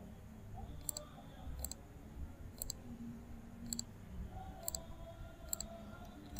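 Computer mouse clicking during software work, a series of sharp, faint single clicks spaced about a second apart over quiet background noise.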